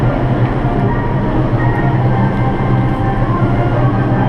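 Inside a moving passenger train, a loud, steady rumble of wheels and carriage fills the cabin with an even low roar, and no voices are heard over it.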